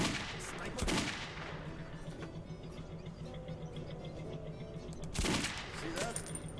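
Sniper gunfire in the video game Metro 2033, with two sharp, heavy shots a few seconds apart standing out over a low humming ambience and faint background clatter.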